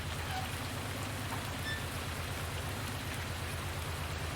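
Steady rain falls in Farming Simulator 19, an even, dense hiss of drops over a low idling engine hum, with no voices.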